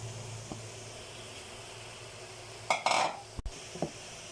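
Crushed carrots being stirred into a pan of spring roll filling, a brief burst of utensil scraping and clinking against the pan, with faint sizzling and a couple of small knocks, otherwise quiet.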